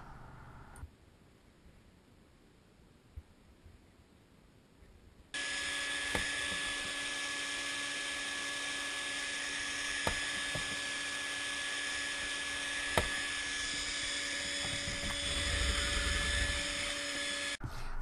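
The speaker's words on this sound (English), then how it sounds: "I mark my spots and make all the holes that I need to make." A drill bores pocket holes into a wood panel, a loud, steady high-pitched whine that starts abruptly partway through after quiet handling noise and runs continuously to the end, close up and alone.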